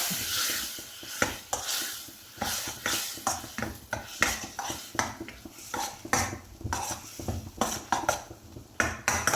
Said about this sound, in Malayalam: ഒഴിച്ച് കൊടുത്തൊന്ന് നല്ലതുപോലെ ഇളക്കി കൊടുക്കുക